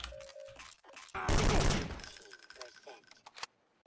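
Weapon fire in the Half-Life 2 beta's 2001 storyline maps, with a loud burst of rapid shots in the middle among quieter game sounds.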